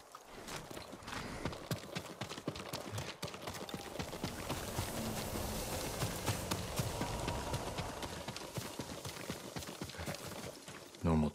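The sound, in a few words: horse hooves walking in a video game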